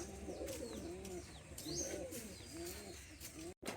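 Giribaz pigeons cooing in a loft, repeated low rolling coos close by with faint chirps in the background.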